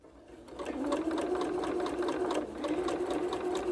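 A sewing machine stitches quilt seams on a Double Irish Chain quilt, a steady close-up whirring hum that starts softly and holds at an even, continuous drone.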